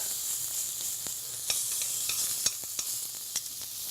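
Meat sizzles steadily in a hot pan as it browns, a bright continuous hiss broken by small pops and crackles, up close with no talking.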